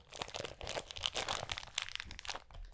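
A tightly sealed, edibles-style plastic packet being pulled and torn open by hand, giving a continuous busy crinkling and crunching rustle with small crackles, close up and with no talk.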